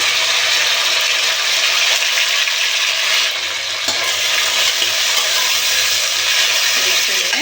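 Sliced onions, tomatoes and mint frying in a pan for a mixed vegetable pulao, giving a steady, loud broadband sizzle throughout with occasional stirring scrapes.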